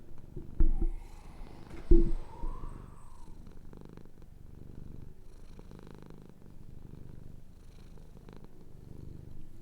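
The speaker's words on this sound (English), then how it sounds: "Oh, you're purring real good." A cat purrs steadily up close in a soft, continuous rumble, with a couple of louder bumps near the start as it moves against the microphone.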